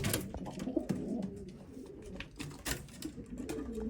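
Racing pigeons coo softly in a loft, several low throaty calls overlapping with faint fluttering and shuffling, quiet and close, with no talking.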